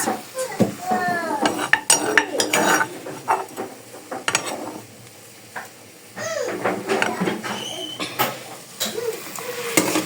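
Ogili being added to meat cooking in a pot for African okra soup, with scattered clanks and scrapes of a metal spoon against the pot, irregular and close, under intermittent talk.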